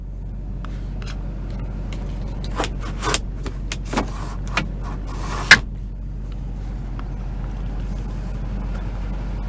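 A sunroof on a 2005 Chevy Silverado 2500 HD Duramax diesel opening inside the cab: a few soft clicks and a brief motor whir over a steady low hum of the idling truck.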